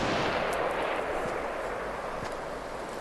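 Distant gunfire from a firefight in the video game Fortnite, a dull continuous rumble with a few faint sharp cracks layered over it.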